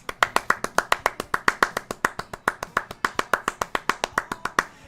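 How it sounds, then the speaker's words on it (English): A round of applause, a steady run of about thirty sharp, evenly spaced claps that sound like a single person clapping close by, fading at the end. "First of all, round of applause for Code B."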